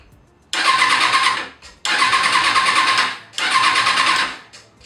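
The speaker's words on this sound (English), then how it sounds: "The bike turns on as if I put the key on in the on position. It can even crank." Starter on a 2005 Kawasaki Ninja ZX-6R 636 motorcycle cranks the engine in three loud, close bursts of rapid rhythmic churning, each lasting over a second with short pauses between, and the engine never catching.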